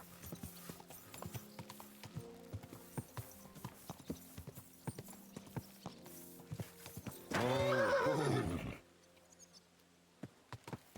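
Horse hooves clip-clopping steadily on a road in the Kingdom Come: Deliverance 2 video game, close and rhythmic, broken by a loud, drawn-out neigh, with insects buzzing faintly behind.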